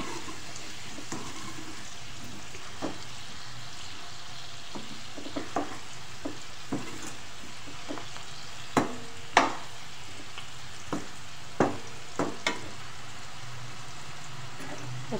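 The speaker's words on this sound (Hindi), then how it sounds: "3 से 4 मिनट आप हल्दी डाल के पकाएंगे आलूओं को।" Potatoes cook with turmeric in a pan without added water, giving a steady low sizzle punctuated by scattered sharp pops and crackles, with no talking.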